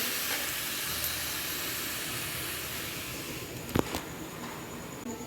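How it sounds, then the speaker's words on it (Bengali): Potatoes frying in oil in a kadai make a steady, close sizzling hiss that holds evenly throughout, with a couple of faint clinks near the end. "এরকম কড়াইয়ে আলু দিয়ে দিচ্ছি আলুগুলো নেড়ে ছেড়ে নেবো ভালো করে ভেজে নেবো লাল লাল করে"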